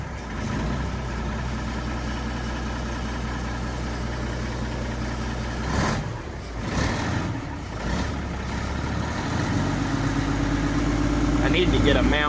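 An old Mack R-611T truck with a 6-250 diesel idles after a cold start, a loud, steady, close rumble that roughens briefly midway and grows slightly louder near the end.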